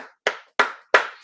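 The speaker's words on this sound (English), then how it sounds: "We gotta do all the clap." Three sharp, evenly spaced hand claps ring out alone after a faint first tap, crisp and close with short decays.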